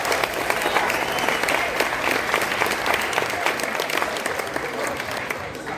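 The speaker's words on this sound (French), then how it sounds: "On l'applaudit, s'il vous plaît!" An audience applauds at a French-language live show, a dense, even clapping that holds steady for several seconds and then eases off slightly at the end.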